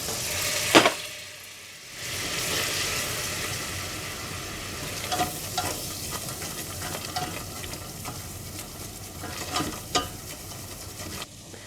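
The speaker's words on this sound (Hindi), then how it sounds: "मक्खन गरम करें और इसमें मैदा डालकर भून लें" Flour roasts in hot butter for white sauce, a steady soft frying sizzle with occasional scrapes and taps of a spoon stirring the pan.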